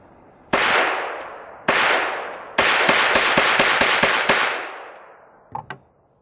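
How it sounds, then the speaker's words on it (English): CCI Quiet 22 rounds fire from a semi-auto .22 rifle in sharp, close reports, two single shots followed by a quick string of about eight, each with a short decaying tail, then a couple of light metallic clinks. "I'm going to take some more shots just to make sure the sound isn't affected by anything."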